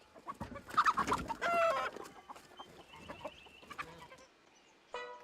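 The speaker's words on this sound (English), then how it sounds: "the bunnies would like being cooped up with the noisy, bossy chickens" Several chickens cluck and squawk in quick bursts, with a rooster-like crow mixed in and a short call near the end.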